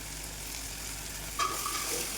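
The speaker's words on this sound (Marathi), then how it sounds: "चांगली भाजून घेऊया तेलामध्ये डाळ।" Washed masoor dal roasting in oil with turmeric makes a steady, even sizzle throughout, with a brief louder scrape partway through as it is stirred.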